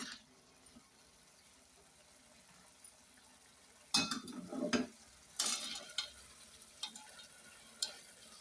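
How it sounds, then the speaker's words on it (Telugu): Dried fish going into a simmering tomato curry and being stirred: quiet bubbling, then sudden bursts of sizzling and scraping as the pieces drop in, followed by intermittent spoon clinks against the pot. "ఇందాక మనం ఫ్రై చేసి పక్కన పెట్టుకున్న ఎండు చేపలు ఉన్నాయి కదా వాటిని అయితే ఇందులో వేసేసుకుందాము"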